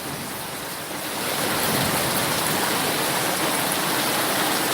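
Steady rain pours over countryside near green trees after the wind has dropped, a dense continuous hiss that swells louder after the first second and holds evenly, with no voices.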